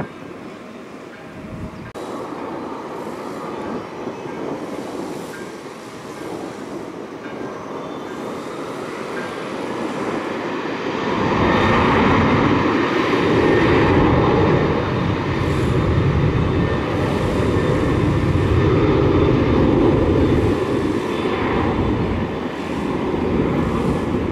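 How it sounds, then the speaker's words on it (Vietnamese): A Boeing 747-200SF cargo jet takes off from Tan Son Nhat airport, its engine roar building from a steady distant rumble to a loud sustained wideband thunder that holds and slowly fades, with wind buffeting. "Mời mọi người chiêm ngưỡng pha cất cánh của chiếc máy bay này nha."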